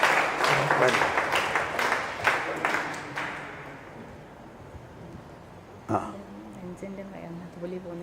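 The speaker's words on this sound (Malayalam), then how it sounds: "കൈയടിച്ച് കർത്താവിന് നന്ദി പറയാം." Audience clapping at a church healing retreat, a dense burst of applause that fades over several seconds, with a voice speaking over it and a sharper knock near the end.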